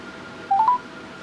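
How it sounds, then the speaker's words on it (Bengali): A phone dials a number, giving a short burst of two or three quick electronic keypad tones in the middle of an otherwise quiet moment. "সামনে ফোন ধরলে আমরা এখন আরেকটা ফোন দিও রে, দেখিও ফোন ধরে কি না, আবার ফোন ঢোকে কি না।"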